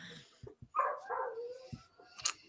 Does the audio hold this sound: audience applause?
no